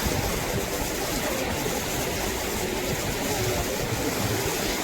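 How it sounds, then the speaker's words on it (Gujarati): Water of the Narmada river flowing, a constant broad rushing and gurgling wash heard close by, steady throughout without breaks. "પાણીનો અવાજ કેવો મસ્ત આવે છે. આખી નદીનો છે પાણીનો ખટખટ ખટકડે છે અહીંથી."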